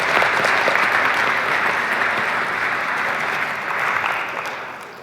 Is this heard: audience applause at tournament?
yes